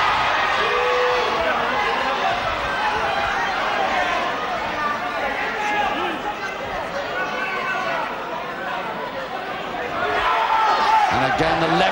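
Steady roar of a wrestling match crowd in a hall, dense chatter and murmuring throughout with occasional swells, while a commentator talks over it.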